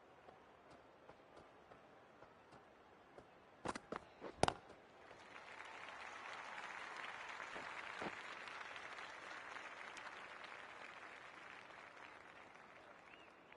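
A cricket crowd at a SEA Games men's T20 match between the Philippines and Singapore bursts into sustained applause after a few sharp knocks, the clapping swelling and then holding at a distance.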